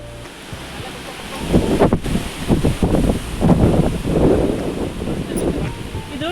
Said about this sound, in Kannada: ಟಾಪಲ್ಲಿ ಇರೋದ್ರಿಂದ ಜಾಸ್ತಿ ಗಾಳಿ